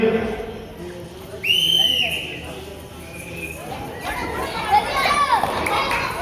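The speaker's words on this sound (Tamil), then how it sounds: "நல்லா கேட்டுக்கோ. ஒரு விசில் இப்ப அடிப்பாங்க." Whistle blown to start a balloon-bursting game at an outdoor Pongal festival sports event: a short bright whistle toot over children's chatter and crowd noise, with other shrill squeaks later in the clip.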